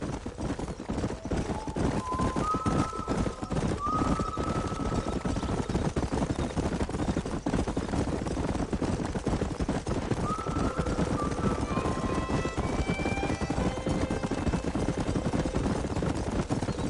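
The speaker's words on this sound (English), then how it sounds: "There's the horses!" Horses in the video game Red Dead Redemption, a continuous rapid drumming of hooves at a gallop with several rising whinnies and neighs layered over it, loud and sustained.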